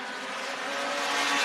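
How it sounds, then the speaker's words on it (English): A pack of Midwest Dash Series race cars roars around the oval at Rockford Speedway, a continuous broad engine drone that swells slightly as the cars close in. "Look at this knot of cars, 2nd through 9th over in turn 2."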